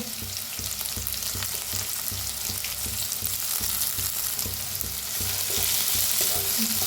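Crushed garlic and green chili sizzle and fry in a pan for eggplant bharit, a steady close crackle with repeated scraping stirs of a spoon throughout.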